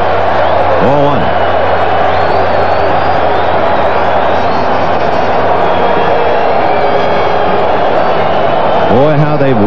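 A large baseball stadium crowd at a 1988 World Series game between the Dodgers and the A's, a steady roar of murmuring and distant shouts throughout, with a voice talking over it.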